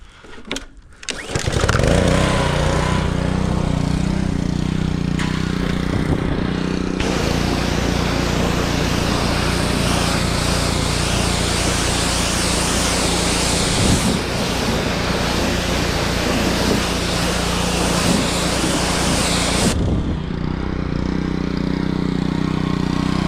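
Comet pressure washer rinsing an old Binder, its motor starting up and then running as a loud, constant engine drone with a hissing water spray that continues close by for about eighteen seconds before stopping.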